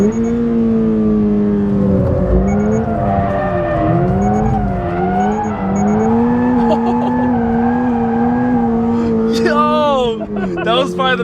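2022 Toyota GR86 sports car drifting through a downhill corner, engine droning loudly and shifting pitch as it slides, tire squeal rising near the end, heard from close by with people talking over it.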